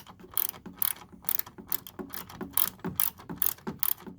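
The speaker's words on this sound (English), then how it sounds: "I might need my regular ratchet." A ratchet works on a 2009-2018 Ram 1500 headlight, clicking close by in quick bursts of short strokes that repeat steadily, with no talking.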